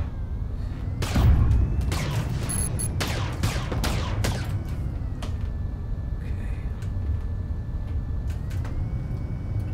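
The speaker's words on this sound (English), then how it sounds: "This thing is shooting at our ship now." Ship cannons fire in Starway Fleet VR, a space combat game with large fleet battles: a quick volley of sharp blasts early on, then scattered shots over a steady low engine hum.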